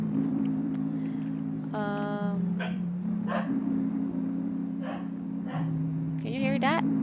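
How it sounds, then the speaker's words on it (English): A dog barks a few times in short, separate bursts over a steady droning in-game background hum, with no voices heard. "Can you hear that? That's my dog."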